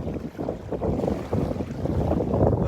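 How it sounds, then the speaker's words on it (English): Wind blowing across Delnor-Wiggins beach, a loud, gusty rush buffeting the microphone, with a steady roar that rises and falls as the gusts come and go. "Breezy up here."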